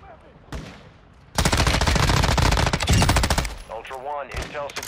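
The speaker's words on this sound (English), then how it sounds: "Oh, God, they got a shotgun." Gunfire in the video game Call of Duty Warzone 2 DMZ, with a shotgun among the weapons: a sudden sustained burst of rapid loud shots dominating the middle of the clip, with a brief voice and faint game sounds around it.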